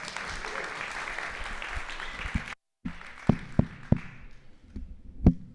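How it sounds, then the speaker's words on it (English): A meetup audience at a TouchDesigner livestream event claps for a few seconds. After a brief silence, a handful of isolated, scattered claps or taps follow, fairly close and uneven. "Go ahead and please give a huge round of applause."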